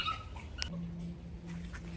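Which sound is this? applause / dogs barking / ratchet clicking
dogs barking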